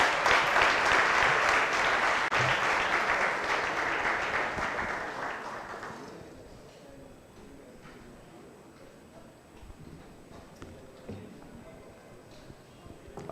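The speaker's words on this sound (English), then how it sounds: "But please, a round of applause for the panelists." An audience at a book launch applauds the panelists, with loud, dense clapping for about six seconds that then fades into quieter room sounds and scattered faint claps.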